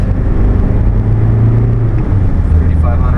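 A Toyota Land Cruiser LJ78 turbo diesel pulls hard toward 3,500 rpm in fourth gear, a steady loud low drone that fills the cabin from start to end, with a voice talking over it.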